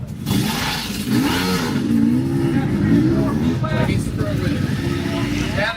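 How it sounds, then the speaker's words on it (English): A two-stroke off-road motorcycle engine revs and climbs through its pitch at the Chemical Valley Scramble, a 24 Hours of Appalachia off-road race, heard fairly close under a voice talking over it. "Just enjoy the sound of a two-stroke"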